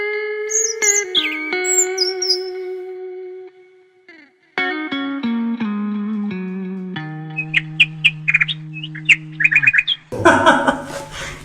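A bird perched in a tree gives short chirping calls in bursts, set against sustained tonal music and effects.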